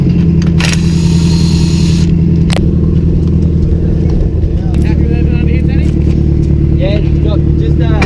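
Turbocharged BMW E36 drift car with an M50B20 engine idling and revving, loud and close, with a steady engine drone, a couple of sharp bursts, and people talking over it.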